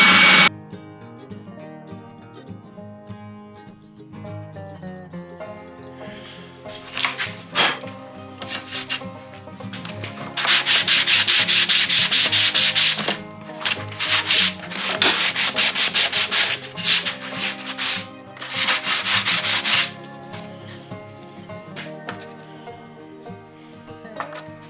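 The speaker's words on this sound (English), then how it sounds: "I'm going to use this little oscillating sander, spindle sander." Small oscillating spindle sander working wood for a bat box, grinding in loud bursts of several seconds with a steady hum between passes, close by and with no talk over it.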